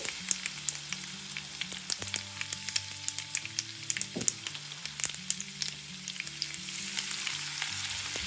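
Crushed garlic crackles in hot oil with mustard seeds and cumin, a dense spatter of sharp pops and sizzle over a low background hum, continuous and close with no talking.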